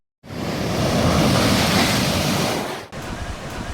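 Ocean waves surge and splash on a beach at Nusa Lembongan, Bali, a loud continuous roar of surf with wind buffeting, breaking briefly near the end before the wash resumes.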